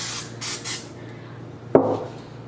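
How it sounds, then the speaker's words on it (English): Non-stick cooking spray hisses onto a baking sheet in a home kitchen, with two or three short airy bursts close by, then a faint knock. "So I prefer to spray it with a non-stick spray."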